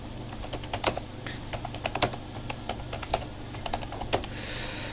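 Computer keyboard typing, with quick irregular clicking keystrokes at close range, steady and fairly quiet with no talk.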